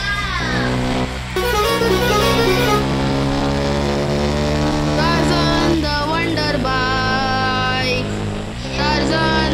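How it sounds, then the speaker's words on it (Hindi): A modded motorbike horn in the Bus Simulator Indonesia game blares a loud, sustained musical tune with shifting pitches and brief pauses, playing steadily over continuous engine drone. "इस मॉड से हॉर्न भी पूरा बदल जाता है।"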